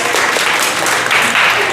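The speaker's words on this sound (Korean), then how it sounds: "박수 한번 쳐주세요" Audience applause at a networking day for nursing students and head nurses, a dense, steady wash of clapping filling the short moment without pause.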